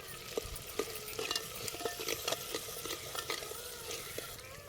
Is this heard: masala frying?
yes